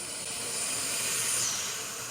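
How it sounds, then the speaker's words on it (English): A dump valve vents pressure from a BearCat BC-502 flush tank through its hose, giving off a steady, loud, airy hiss that holds evenly for a couple of seconds and swells slightly in the middle. "So I open that up to relieve the pressure."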